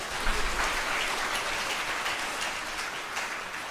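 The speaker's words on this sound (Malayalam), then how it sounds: "അമ്മയ്ക്ക് നന്ദി പറഞ്ഞുകൊണ്ട് കൈയടിച്ചുകൊണ്ട് ശ്രദ്ധിക്കട്ടെ." A large congregation at a Catholic covenant retreat claps together in sustained, dense applause that holds at an even level throughout, with no speech over it.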